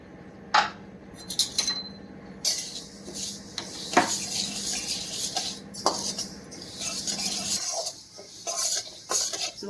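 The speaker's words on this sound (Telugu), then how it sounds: "కడాయి పెడతాను. అవస గింజలు వేపుతా." Flax seeds dry-roasted in a kadai with no oil, stirred with a metal spatula that scrapes and clinks against the pan in irregular bursts, with a faint crackle underneath.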